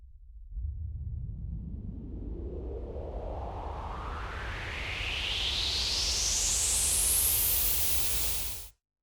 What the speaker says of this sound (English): I set it to low pass filter and automated its cutoff value to get this white noise.